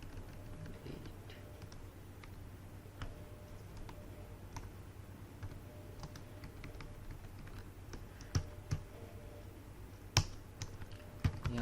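C program code is typed on a computer keyboard in a quiet room, a soft, steady stream of keystrokes with a few louder clacks near the end.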